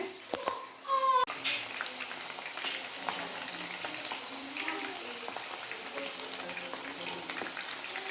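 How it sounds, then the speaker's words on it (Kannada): Chicken pieces deep-fry in hot oil for chicken Manchurian, a steady close sizzle and bubbling that carries on throughout, with a clatter near the start and a voice speaking over it. "ಇದು ಡೀಪ್ ಫ್ರೈ ಮಾಡಿ ಆಗ ಮಾಂಸ ಚೆನ್ನಾಗಿ ಬೇಯುತ್ತೆ"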